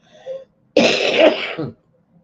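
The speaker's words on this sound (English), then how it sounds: "I'm going to cough." One harsh, raspy cough, loud and close, lasting about a second, with a short quiet murmur just before it.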